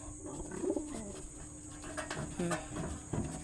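Pigeons coo softly in short, low bursts at close range, over a steady background hum and scattered faint noises, with someone speaking intermittently.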